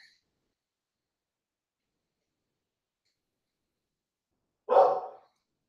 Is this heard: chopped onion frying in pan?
no